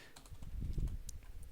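Computer keyboard typing at a desk, a quick run of soft, close keystrokes over a low muffled background thump, with no voices.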